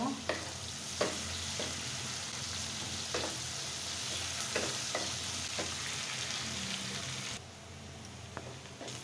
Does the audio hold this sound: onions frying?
yes